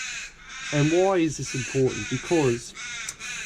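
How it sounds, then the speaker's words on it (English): Crows caw outdoors behind someone talking indoors during an engine rebuild, their calls recurring through his speech. "Sorry about the birds."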